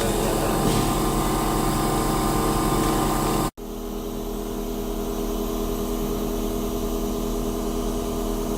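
An ACF/COF/TAB bonding machine for LCD/LED/OLED TV panel repair runs with a steady mechanical hum, which cuts out abruptly for a moment before continuing at a slightly softer, constant level.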